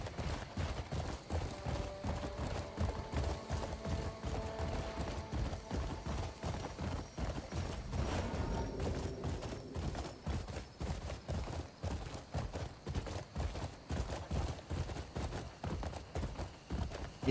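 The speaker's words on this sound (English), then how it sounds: "when I call in my horse, there's not an issue" Steady, rhythmic clip-clop of horse hooves as a mount runs through the world of Crimson Desert, continuous for the whole stretch at moderate volume with faint game ambience behind.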